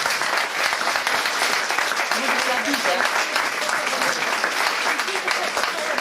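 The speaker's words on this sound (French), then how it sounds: "on peut les applaudir vraiment beaucoup" Sustained applause from a room full of people at a wedding anniversary celebration for couples, steady and dense throughout, with a faint murmur of voices underneath.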